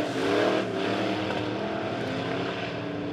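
Midwest Modified race cars roar around Springfield Raceway, a dense, continuous engine drone from several cars at moderate distance, slightly fading toward the end.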